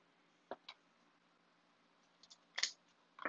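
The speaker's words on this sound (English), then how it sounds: "I'm going to go ahead and cut off that folded area" Scissors cut through folded mesh ribbon for a grapevine wreath, heard as a few quiet, close snips and clicks separated by silence.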